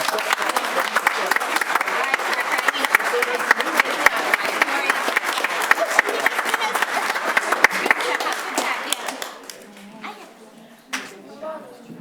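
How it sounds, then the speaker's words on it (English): Sustained applause from a crowd at a board of education meeting, dense steady clapping for several seconds before thinning out to a few scattered claps. "give them a round of applause"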